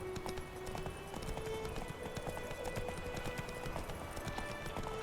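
In the video game The Witcher 3: Wild Hunt, a horse gallops with rapid, rhythmic clip-clop hoofbeats that continue steadily throughout at moderate loudness over a faint background.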